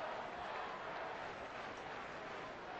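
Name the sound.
big crowd at a sold-out baseball game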